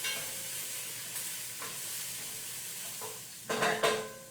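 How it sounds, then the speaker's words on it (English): Garlic and onion are stirred in a cooking pot for a vegetable minestrone soup, a faint, soft sizzle with light scraping that grows into a couple of louder spoon scrapes near the end. "So I'm going to add that in now and give that a stir."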